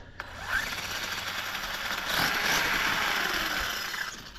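Arrma Kraton 6S BLX RC car running, a fairly quiet broadband whine and hum of its electric drivetrain that swells slightly partway through, steady and mid-distance with no voices.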